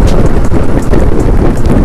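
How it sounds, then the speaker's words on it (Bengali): Strong wind buffeting the microphone while riding across the Padma bridge at night in the rain, a loud, dense, continuous roar with no pauses. "এখন পদ্মা সেতুর মাঝখানে রয়েছি, অনেকটা বাতাস, বৃষ্টি হচ্ছে"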